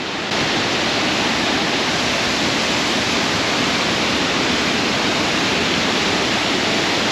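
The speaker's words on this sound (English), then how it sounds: "the waterfalls are so strong and loud" A powerful waterfall roars in heavy rain, a dense, loud, continuous rushing wash of water that fills the whole stretch without a break.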